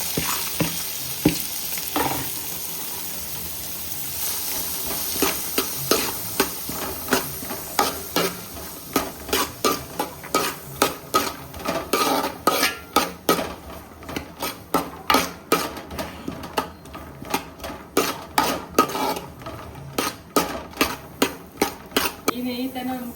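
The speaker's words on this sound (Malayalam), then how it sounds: "നെയ്യിൽ നമുക്ക് ഇതുവരെ ഈ അരിഞ്ഞ് വെച്ചിരിക്കുന്ന ക്യാരറ്റും ബീൻസും ഇട്ട് കൊടുക്കാം." Chopped carrots and beans sizzle in hot ghee in a pan, a loud frying hiss under a fast, uneven run of sharp clicks and scrapes from stirring that grows denser and more rhythmic toward the end.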